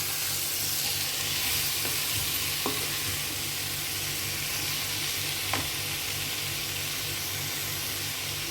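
Broad beans (chikkudu) frying in a pan, an even hissing sizzle with a low hum beneath and a few soft utensil taps, steady and moderately quiet, no speech.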